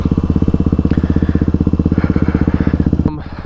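A motorcycle engine chugs loudly and steadily close by for about three seconds as the bike is ridden, then cuts off abruptly.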